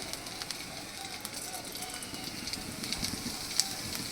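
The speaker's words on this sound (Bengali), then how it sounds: "তাতে ফোড়ন দিচ্ছি কিছুটা সাদা জিরে" White cumin seeds sizzle in hot oil with a steady, faint crackling hiss and a few sharper pops.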